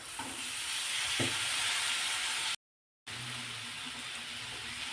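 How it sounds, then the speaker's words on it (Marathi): Spices sautéing in a pan for val papdi curry, a soft continuous sizzle with occasional stirring clinks, broken by a brief silent gap before the sizzle resumes. "आता मसाले थोडेसे परतून घ्यायचे आहेत"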